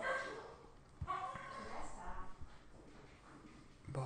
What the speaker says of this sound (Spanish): el perro se ha vuelto loco